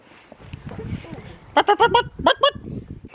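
Backyard hens in a coop give a short run of loud, nasal clucking calls in two quick clusters, close by, with people talking around them.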